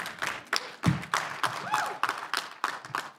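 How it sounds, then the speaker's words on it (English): An audience at a political talk claps in scattered, uneven bursts, fairly quiet and sounding like a small crowd rather than sustained applause. "you can clap for that."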